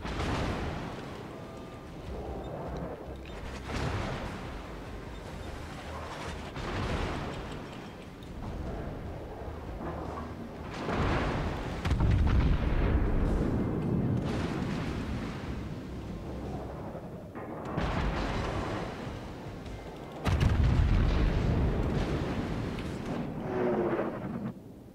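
Heavy booming naval cannon blasts in World of Warships, several loud deep explosions spaced apart with rumbling tails and constant background noise.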